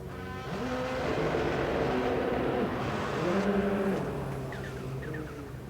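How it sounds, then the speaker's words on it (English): Hyundai rallycross cars at a 2020 World RX qualifying session in Barcelona, with layered engine drones and brief high turbo wastegate chirps near the end, heard from a distance over steady crowd and track noise. "Turbo wastegate from the Hyundais."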